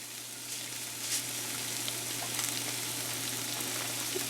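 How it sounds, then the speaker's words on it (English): Vegetables sauté in vegetable oil in a home kitchen pan, giving a steady close sizzle with occasional crackles and faint stirring throughout. "We're gonna add a little bit of vegetable oil. And yeah, I'm just gonna saute it."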